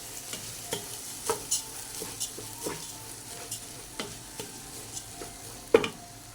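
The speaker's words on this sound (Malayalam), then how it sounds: "നല്ലോണം ഒന്ന് മിക്സ് ചെയ്യണം" Raw rice, three cups of it for ghee rice, being stirred in a pan with repeated scraping strokes and light clicks over a soft sizzle, fairly close and steady, with no voices.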